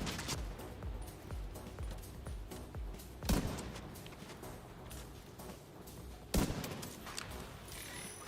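Gunfire in The Division 2 builds as a constant crackle of distant shooting, broken by two louder, closer bangs that stand out, with no voices.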